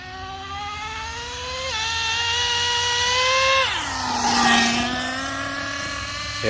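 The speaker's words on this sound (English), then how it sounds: "There was that lovely 2-speed shift." A Traxxas Nitro Revo 3.3 nitro RC car engine whines loudly and climbs in pitch, then drops sharply as the two-speed gearbox shifts, settling into a steady high buzzing drone that rises again at the end.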